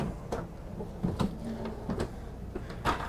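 A cutlery drawer slides open in a 2022 Newmar Supreme Aire 4590 Super C motorhome, with a few soft knocks and a brief rolling slide from close by, no voices.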